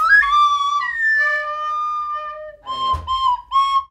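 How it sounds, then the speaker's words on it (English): Beige plastic school recorder playing a few thin, breathy, whistle-like notes, with held tones and a quick run of short notes near the end, close by with no talking. "Chances are, if you grew up in the United States, you've played a recorder."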